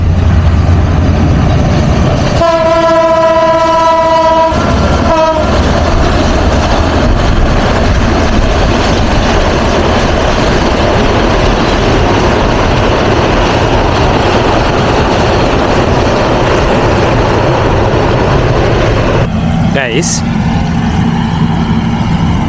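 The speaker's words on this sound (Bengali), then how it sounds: "কি সুন্দর লাগছে ঝক্কর ঝক্কর করে ট্রেন যাচ্ছে" A train runs through a Bangladeshi village during the rice harvest, starting with a horn blast and then a loud, continuous rumble and clatter of wagons passing close by.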